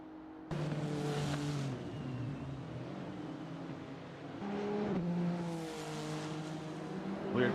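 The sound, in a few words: race car engine on the straightaway, from a racing video game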